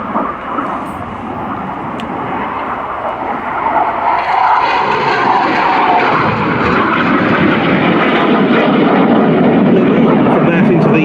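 A Hawk jet trainer of the Finnish Air Force flies past with a loud, broad engine roar that swells and holds steady, while a voice talks over it.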